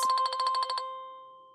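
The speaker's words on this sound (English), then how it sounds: "the moment I click on send, I'm going to hear this ringing sound over here" An incoming live chat notification rings as a rapid burst of about nine bright electronic trills, then a lingering tone fades away, clear and alone.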